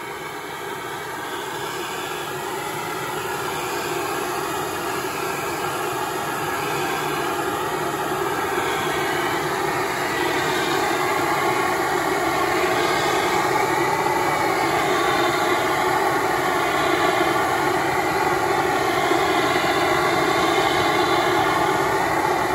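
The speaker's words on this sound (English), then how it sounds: "Fully functioning CO2 extinguisher with its last hurrah." A fully functioning CO2 fire extinguisher being emptied, a loud continuous hissing roar that swells slightly and holds steady for over twenty seconds without a break.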